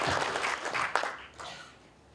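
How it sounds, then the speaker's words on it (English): Brief, fairly quiet applause from a crowd at a netball sponsorship awards ceremony in Zimbabwe, a few scattered claps swelling briefly and then fading away. "Let's clap hands for ourselves."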